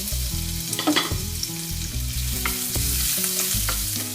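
Garlic and chili fry in a teaspoon of oil with a steady close-up sizzle, broken by repeated scraping and stirring strokes of a utensil against the pan, and no voices.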